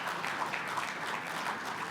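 Audience applause at an economic dialogue conference session, a steady wash of many hands clapping together as a session chair is welcomed onto the stage, fairly even in level with no talk over it.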